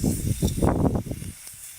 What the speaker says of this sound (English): Oh, sizzle, you beggar.